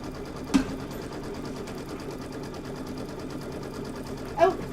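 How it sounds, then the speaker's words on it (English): A sewing machine runs steadily while two quilt filler blocks are pieced together along a short 2.5-inch edge, a continuous low mechanical hum with faint brief knocks near the start and end. "If you haven't done it yet and you have another sewing machine, go ahead and piece these two together."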